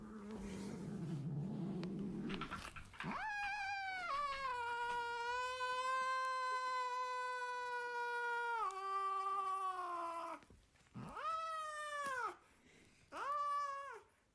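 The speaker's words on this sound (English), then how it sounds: "Yeah, kitties bathe themselves." A cat lets out long, drawn-out yowling caterwauls, loud and close, with several sustained wavering cries and shorter meows, preceded by a brief rustle and no talking.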